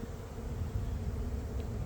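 Honey bees swarm over drone comb and white larvae inside an open hive, a dense, steady buzzing that stays loud and close throughout without a break.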